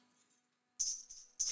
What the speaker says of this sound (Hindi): ये पायल की आवाज कहाँ से आ रही है?